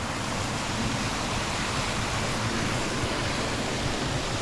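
A flowing mountain stream on a hiking route in the Benguet, Ilocos and La Union region rushes in a steady, dense wash of water, close and constant, with no voices over it.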